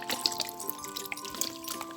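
Vinegar pours onto salted mumbar, stuffed intestines, making a faint, close trickle with light dripping and splashing over a low background hum.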